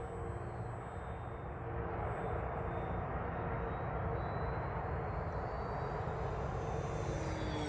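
An FMS SuperEZ RC plane drones faintly overhead in open air at dawn, a thin, steady high-pitched motor whine sitting above soft wind rumble, distant and continuous.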